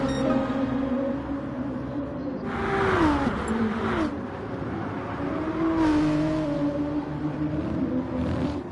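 A race car engine in the GT Sport video game revs and shifts pitch, with two louder surges as it accelerates, under continuous race commentary.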